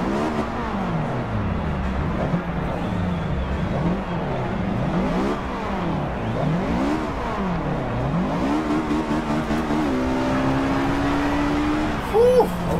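Synthetic engine of a Honda Civic Type R EK9 with a B16B engine in the game Forza Horizon 2 revs up and down repeatedly in sweeping pitch glides, a continuous droning roar with no voices.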